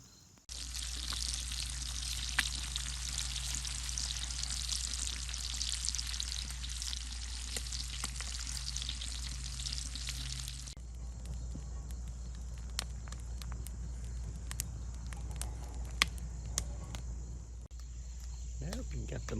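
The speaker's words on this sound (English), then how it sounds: "Dad's got some bacon frying in the pan." Bacon sizzles in a pan over a campfire outdoors during a morning camp, a steady crackling fry with a constant low hum beneath, loud for the first ten seconds and then dropping to a quieter background sizzle.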